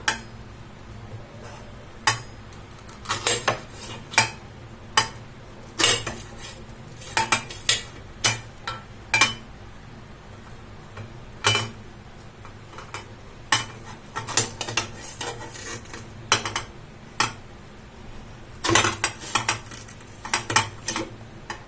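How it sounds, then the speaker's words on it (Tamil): Knife chopping nendran plantains into small pieces on a board, a run of sharp, separate taps and clinks that come in irregular bursts across the clip, close by and moderately loud, with no talking. "இதை வந்து நம்ம சின்ன சின்ன பீஸா கட் பண்ணிக்கலாம்."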